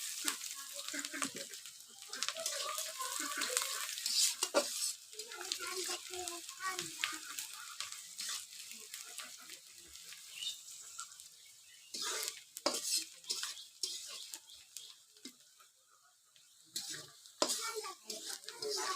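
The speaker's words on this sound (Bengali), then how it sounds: "একটা তেজপাতা পেঁয়াজের সাথে ভালোভাবে ভাজানো" Onions and spices, including cardamom and a bay leaf, sizzle steadily in a hot pan, with occasional stirring scrapes and clinks of a utensil against the pan.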